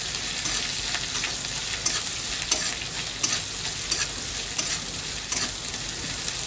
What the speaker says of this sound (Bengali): এবার আমি একটু নাড়িয়ে নিই ভালো করে।